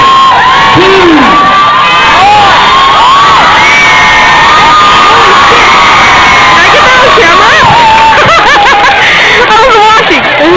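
Children in a crowd cheer, whoop and shout with laughter at a school bike assembly event, a loud, dense burst of high voices that stays wild throughout, with some chuckling mixed in.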